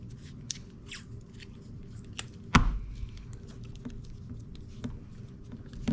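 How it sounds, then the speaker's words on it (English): Regular electrical tape being pulled and wrapped around a pair of air ride compressors, a short series of soft crinkling rips and handling rustles with one sharper tear partway through, close and quiet. "just regular electrical tape. Just tape these bad boys together."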